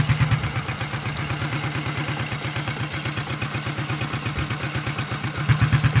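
A Honda Biz C100 motorcycle engine idles with its exhaust covered, a steady, rapid mechanical putter with light clatter, close and even throughout, rising a little at the end.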